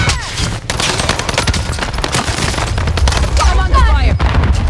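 Rapid, dense gunfire in an online shooter video game, continuous loud volleys of automatic shots and bursts close by, with brief voices in the mix.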